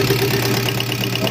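An Isuzu 4JA1 diesel engine runs on a test bench with a steady, close clattering drone and a faint high whine over it, loud and continuous for just over a second, with no talk.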